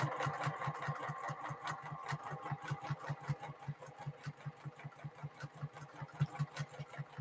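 A sewing machine stitches a quilted fabric tote bag, its steady, fast rhythmic needle thumps repeating evenly at close range throughout, with no talking.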